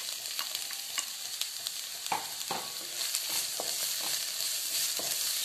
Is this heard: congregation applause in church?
no